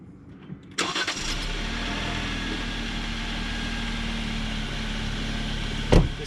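A 2021 Jeep Wrangler JL Sport engine cranks briefly and fires up, then settles into a steady, fairly loud idle heard close by, with a short knock near the end.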